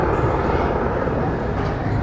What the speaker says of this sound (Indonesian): Ada helikopter LAPD yang lagi turun.